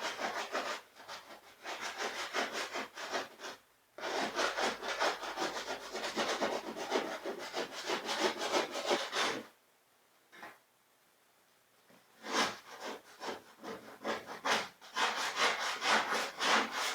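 An animal hide is scraped by hand in rhythmic, rasping strokes, steady and close for long stretches, broken by a couple of brief pauses.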